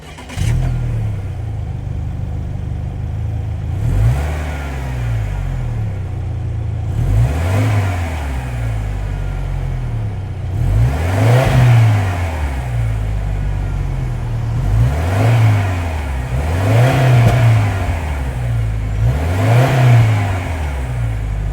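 A 2024 Subaru Outback Touring XT's 2.4-liter boxer turbo four-cylinder revs repeatedly, with a steady idle between roughly six rising and falling throttle blips, heard up close and alone.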